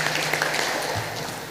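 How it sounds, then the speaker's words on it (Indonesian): Applause from attendees at a women's small-business focus group discussion, a brief steady patter of many hands that stays even and moderately loud. "tepuk tangan untuk kita semua Bapak Ibu"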